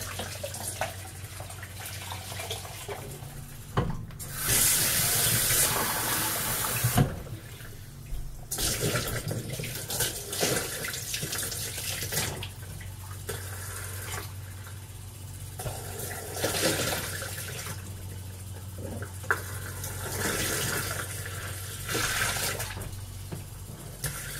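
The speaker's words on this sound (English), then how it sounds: "Get 300 mils of lukewarm water." A kitchen tap runs lukewarm water for bread dough, a steady rushing stream with brief surges and pauses, close by, with no talking.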